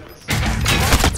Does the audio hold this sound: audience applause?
no